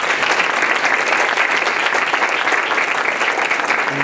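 A live audience at an evening transgender roundtable discussion applauds steadily, a dense, even wash of clapping from many hands that holds at the same loud level throughout with no speech over it.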